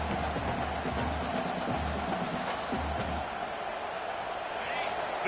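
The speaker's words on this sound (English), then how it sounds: "This crowd going to try to make life miserable for these guys" A football stadium crowd at a Pitt versus Oregon game roars as a steady, distant wash of noise beneath a commentator's talk.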